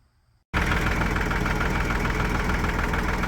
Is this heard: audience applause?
no